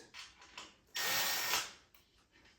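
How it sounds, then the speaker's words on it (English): Bolts of 5mm being removed from a racing simulator bracket with a ratchet, giving a close burst of clicking and grinding mechanism noise for about half a second, with softer handling sounds before and after. "I'm gonna take these bolts out. These screws, these are 5mm."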